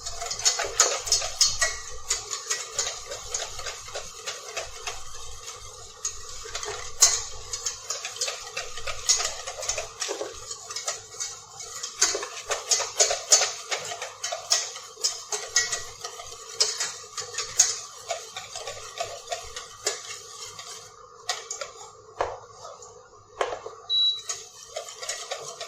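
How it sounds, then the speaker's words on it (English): Fresh cream being whipped continuously in a bowl for a chocolate mousse, heard as a steady run of quick clinking, ticking strokes of a whisk against the bowl, close and fairly quiet, with no talking. "You keep on mixing this continuously"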